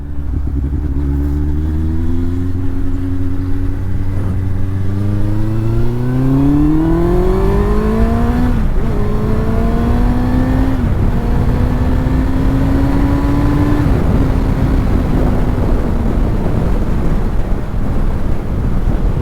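A 22-year-old Yamaha Fazer 1000 motorcycle engine climbs steadily in pitch through several gears, loud and close, with rushing wind noise throughout.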